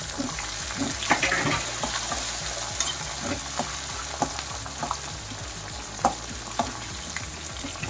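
Tomatoes, onions and curry leaves fry together in a pan for soya veg biryani, with a steady close sizzle broken by repeated scraping stirs and a few brief metallic clinks.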